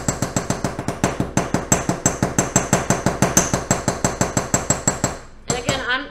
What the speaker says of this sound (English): So I'm going to go ahead and hammer tone this side.